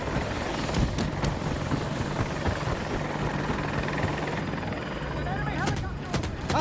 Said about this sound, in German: Zack, Heli kommt.